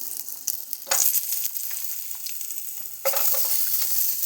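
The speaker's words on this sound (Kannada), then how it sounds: "ಇದು ಫ್ರೈ ಮಾಡ್ಕೊಳ್ಳೋಣ" Steady crackling sizzle of food frying in hot oil, close by, with a louder burst of spattering partway through.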